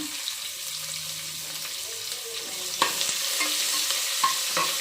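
Curry leaves and onion frying in a pan for pulao, a quiet sizzle that grows louder after a sharp clatter partway through, with scraping stirs and occasional knocks close by and no voices.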